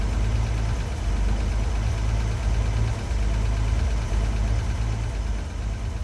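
A restored 1958 Ford Panel Truck engine idles close by with a steady, even low rumble and a faint knocking undertone, running alone without any talk for about six seconds.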